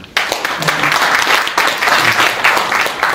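Applause rings through an auditorium at the founding ceremony of a Seoul civic movement in the Korean Christian Building hall, many hands clapping steadily and loudly after a sharp start, continuing throughout.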